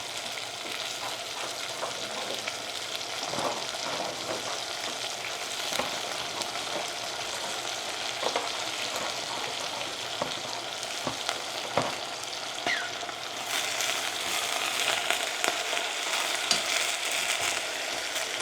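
Papdi beans and vegetables cooking in a pan over low gas, with curry leaves added, giving a continuous soft sizzle and frying crackle with occasional light stirring ticks, steady and close with no voices.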